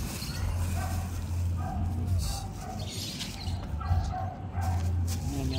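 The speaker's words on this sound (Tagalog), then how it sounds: "May aso." A dog barking from a rooftop grill spot, several short yips and barks spaced irregularly over a bed of background noise, moderately near but not loud.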